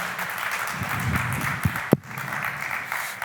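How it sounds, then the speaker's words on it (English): An audience at the WCM23 event gives a round of applause to welcome a speaker, a steady clapping wash lasting several seconds with a couple of brief louder knocks near the middle. "One round of applause, please."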